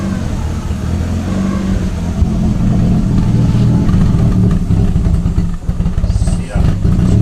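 Volkswagen Golf Mk2 engine revving steadily, a close, loud mid-range engine note that swells and eases over several seconds with road and cabin noise around it.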